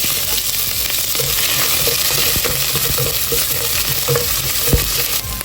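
Green chili and crushed ginger fry with cardamom, cinnamon and fennel in a pan for a Kerala-style prawn biryani, giving a loud, steady, close sizzle broken by frequent stirring clicks and scrapes throughout.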